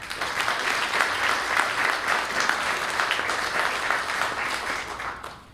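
Sustained audience applause at a Homes for Our Troops ceremony as the executive director walks up, a dense, even wash of clapping from a full room that holds steady and then fades quickly at the end.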